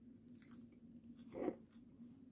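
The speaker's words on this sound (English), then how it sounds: "I'm going to eat the leftovers. This is radish sprouts, bok choy, and tango leaf lettuce, and it's a snack" Raw radish sprouts, bok choy and tango leaf lettuce are chewed up close. The soft, quiet mouth sounds build to one brief crunchy bite partway through.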